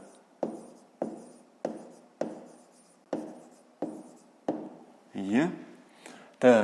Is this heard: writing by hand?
yes